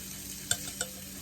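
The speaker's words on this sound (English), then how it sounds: "let's pour our sauce in here" Sauce goes into a hot pan with crab meat mixture for alfredo crab fettuccine, giving a constant sizzle under two short scraping stirs of a utensil against the pan.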